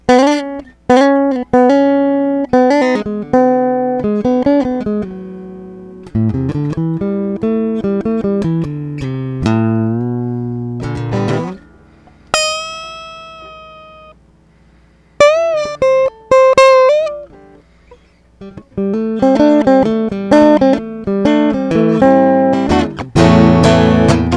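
A Yamaha EG 112C electric guitar on its middle pickup plays a run of clean plucked notes and chords with a round tone, a few ringing harmonics in between, no voices.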